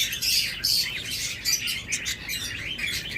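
Pigeons on a bird farm chirp and call in quick, busy bursts at moderate distance, a lively chatter of many birds with no voices.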